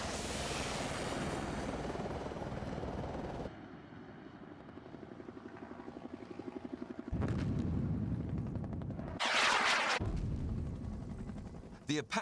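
An Apache Longbow attack helicopter thunders with loud rotor and engine noise, joined by bursts of heavy gunfire and a sharp high whine near the end.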